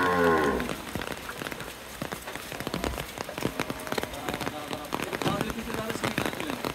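A red cow at a Bangladeshi cattle trader's collection in Naogaon gives a brief, close moo at the start, followed by a patter like rain and people talking in the background.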